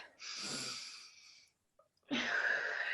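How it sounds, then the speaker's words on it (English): A deep belly breath in during a guided relaxation, two long, close breathy inhalations with a brief silent pause between them, airy and slightly wheezy. "take a deep breath in for me, like a really deep belly breath"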